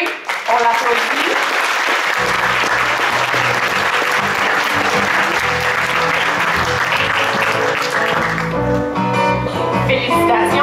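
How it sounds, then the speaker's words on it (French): A crowd applauds at a regional science fair awards evening in Quebec City, steady clapping with music playing underneath that shifts near the end. "Benoît Auger, on l'applaudit"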